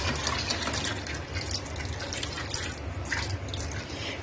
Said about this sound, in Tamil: இது மூழ்கிற அளவுக்கு நம்ம தண்ணி ஊற்றிக்கிறோம்.